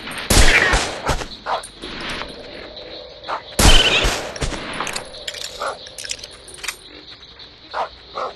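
A dog barks in the Deer Hunter 2018 video game, loud sharp bursts in an uneven series, two especially strong barks standing out among quieter yaps and clicks.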